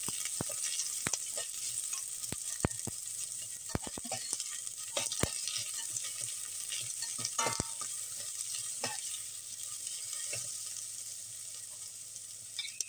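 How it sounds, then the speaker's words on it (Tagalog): Onions sautéing in a pan for pork adobo, a soft steady sizzle with scattered sharp clicks of stirring, close but fairly quiet, with no voices. "unahin ko yung sibuyas. Hanggang translucent."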